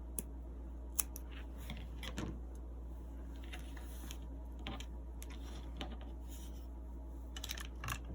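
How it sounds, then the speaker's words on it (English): Scissors snipping crochet yarn on a small candy cane ornament, a few sharp close metallic clicks and snips scattered over a quiet background hum, with no talking. "And then you can cut this off."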